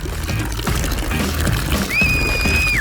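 Milk pouring down onto a person during a mystery-button food challenge, a dense continuous splashing gush, loud and close, with a thin high squeak near the end.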